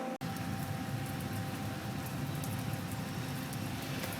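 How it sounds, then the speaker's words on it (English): Hard rain falls steadily outdoors during work on a spare tire mounting bracket, a dense, continuous hiss after a brief dropout at the very start, with no talk. "it's raining pretty hard"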